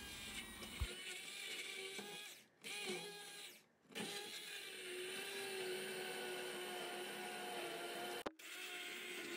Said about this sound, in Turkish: blender yardımıyla pürüzsüz hale